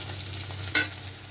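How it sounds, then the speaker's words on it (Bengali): Onions frying in a pan for a Bengali home-cooked dish, a soft steady sizzle with a brief louder stir or scrape near the middle, close and alone without talk. "এই যে পেঁয়াজটা প্রায় ভাজি হয়ে আসছে"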